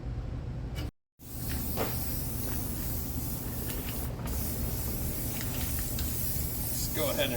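Spray paint hissing from an aerosol can over weld slag on a 2006 Chevy Tahoe GMT800 exhaust, a steady close spray with one brief gap, while a voice talks over it.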